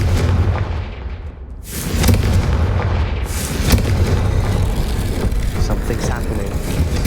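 The Confringo fire spell explodes in Hogwarts Legacy with a loud, booming blast and rumbling roar that swells again midway through, with game ambience dense underneath.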